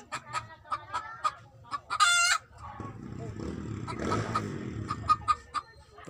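A laying hen clucks repeatedly in short, close bursts, with a louder squawk early on and soft rustling and a faint voice in between.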